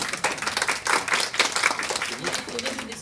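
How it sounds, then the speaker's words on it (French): A small audience at a 2015 art exhibition in Aulnay-sous-Bois claps briefly and unevenly, soft and fairly close, fading toward the end. "Vous pouvez applaudir."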